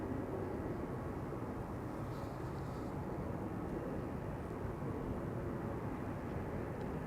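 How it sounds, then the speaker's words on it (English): A 26-year-old Boeing 747-400 freighter departing Amsterdam Schiphol Airport, a steady low broadband engine roar that holds at an even, fairly distant level throughout. "that's a 747-400 freighter"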